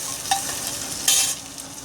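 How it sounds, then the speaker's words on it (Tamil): Spices sautéing in a pan, with quiet sizzling and a couple of brief scraping stirs against the metal, close and alone with no talk. "இதை நல்லா வணக்கி விட்டுக்குங்க."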